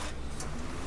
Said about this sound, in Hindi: कूलर की कुछ आवाज़ ऐसी है,